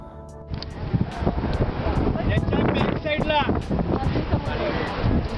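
Strong wind roars over the microphone with buffeting gusts and sea noise at Kanyakumari, at the Vivekananda memorial by the Arabian Sea, while voices talk underneath.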